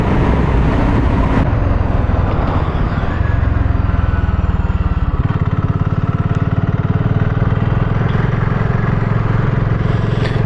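A 2024 BSA 650 Goldstar single-cylinder motorcycle with a five-speed gearbox is ridden through corners, its engine droning steadily and close throughout with a slight shift in pitch midway, no voices.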